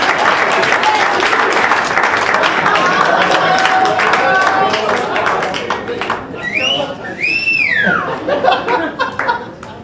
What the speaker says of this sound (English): Keep clapping for Nomi.